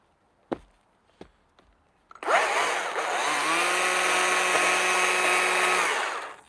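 A Stihl-style 160 chainsaw with a dime tip carving bar is revved up for wood carving. A few sharp taps come first, then a loud, close engine whine that holds steady for about four seconds before cutting off.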